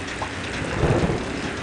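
A rain and thunder sound effect plays as a steady hiss of falling rain, with a low rumble of thunder swelling briefly near the middle.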